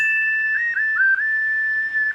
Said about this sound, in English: This is a whistle synth, but apparently to my sister, it sounds like minions dancing together.